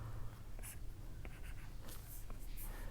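Marker or chalk scratches across a board in a chemistry lesson, with short strokes and taps in an irregular rhythm, close and fairly quiet.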